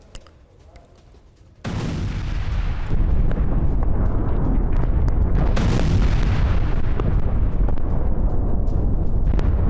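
A Blue Origin rocket exploding into a fireball during a hot-fire test, a sudden loud roaring blast that swells into a sustained, rumbling roar and stays at full intensity.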